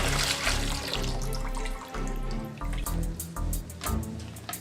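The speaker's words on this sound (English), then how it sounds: "So now you're going to empty out the water from the canister." Water poured out of an Unger HiFlo RO30C water filter canister runs in a steady, close splashing stream that swells and ebbs, with a few drips and trickles near the end.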